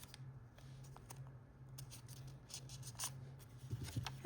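Scissors snip paper while a paper flower is being made, quiet close cuts with scattered crisp clicks and rustles, a little busier toward the end, no speech.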